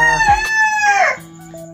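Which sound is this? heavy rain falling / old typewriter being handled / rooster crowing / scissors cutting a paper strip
rooster crowing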